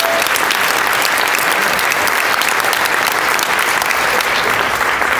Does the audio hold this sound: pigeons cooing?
no